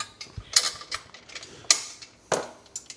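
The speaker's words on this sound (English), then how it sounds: "You put your bolt through that." A bolt is fitted through a metal part of an off-road go-kart frame, heard as close, irregular metallic clicks, clanks and rattles in short bursts, with no voices.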